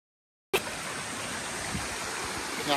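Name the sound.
small waterfall flowing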